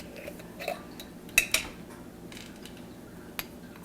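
A teaspoon of brown mustard seeds drops into a Vitamix blender jar, making a couple of quick, close clattering rattles with a faint tick afterward, in an otherwise quiet kitchen with no talking.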